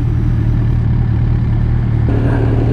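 A sport motorcycle fitted with a Two Brothers Racing exhaust holds a loud, steady engine drone close by, with a slight shift in pitch near the end and no one talking.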